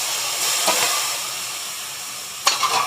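Mashed ridge gourd bharta sizzling in a hot pan, a steady hiss broken by a couple of sharp stirring scrapes near the start and the end.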